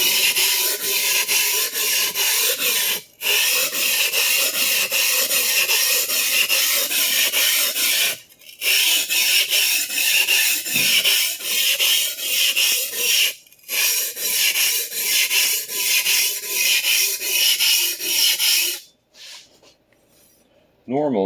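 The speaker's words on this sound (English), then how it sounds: "Normally, for a standard sharpening procedure, I would be making passes down the entire length of the blade" A vintage Clyde Cutlery chef knife is drawn across a whetstone in long, steady, gritty scraping strokes, close and loud, with brief gaps between passes and a pause near the end.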